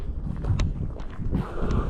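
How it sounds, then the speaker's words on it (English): Steady low rumbling wind buffeting the microphone, loud and continuous with gusty swells throughout. "It's pretty windy and pretty chilly."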